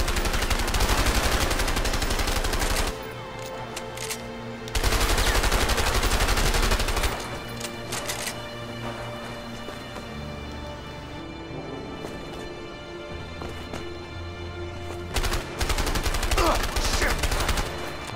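Video game gunfire from A Way Out, with dense bursts of rapid automatic shots that come loud and close in long stretches, pause briefly between volleys, and run over a low game soundtrack.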